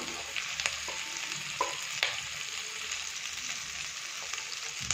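Soybean chunks fry with chopped capsicum in a pan for chilli soybean. A steady sizzle runs throughout, punctuated by a few sharp clicks and scrapes of a spoon stirring.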